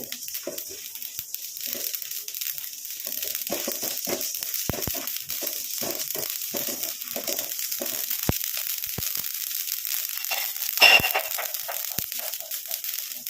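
Mustard and nigella seeds spluttering in hot oil over a low flame give off a close run of small, irregular pops and crackles, with a brief louder burst near the end.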